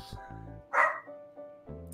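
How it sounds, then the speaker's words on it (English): A dog gives a single sharp bark up close, with soft whines and tonal background sounds around it in an indoor setting. "always barking up a storm, barking up at all the other dogs"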